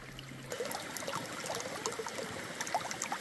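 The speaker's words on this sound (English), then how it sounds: "my own little river" Small creek flowing over a stony bed on a spring Missouri Ozarks farm, a steady close trickling and burbling of running water with scattered brighter splashes, heard alone throughout.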